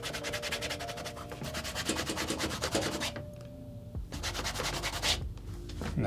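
Rhythmic friction rubbing on the flesh side of deep red leather, a steady close scratchy rasp that pauses briefly partway through before resuming.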